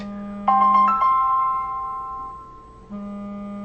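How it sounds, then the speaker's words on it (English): A phone ringtone sounds as a sustained electronic tone broken by a bright rising chime of quick pulses, then a long fading ring before the steady tone returns, close and loud with no voices. "Okay, so I had a phone call."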